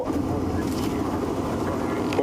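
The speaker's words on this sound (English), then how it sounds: "I'm just going to let the engine run a little bit" A safari vehicle's engine idles steadily at close range, a constant low rumble through a game drive, with a speaking voice faintly mixed in under the motor.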